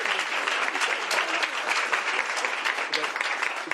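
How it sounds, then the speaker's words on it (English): A press conference crowd gives the speakers a round of applause, dense and continuous clapping at steady volume throughout. "First, a round of applause for all of our wonderful speakers who did a fantastic job."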